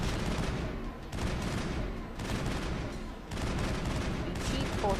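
Sustained weapon fire in the sci-fi shooter Mass Effect, a continuous loud rattle of rapid shots with two brief dips in the barrage before it resumes at full intensity.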